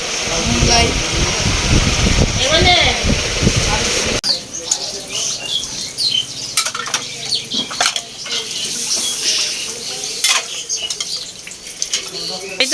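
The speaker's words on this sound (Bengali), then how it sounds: "দেখছেন আমার আপামনি অনেক সুন্দর করে থালি মাছতেছে মনোযোগ সহকারে" Dishes being scrubbed and washed under running tap water, with a steady rushing stream, clinking of plates and scraping, while a person talks over it.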